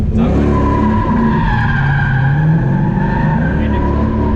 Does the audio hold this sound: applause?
no